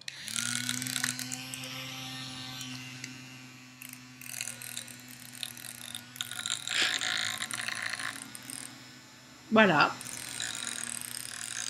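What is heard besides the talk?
small battery-powered fan with two propellers running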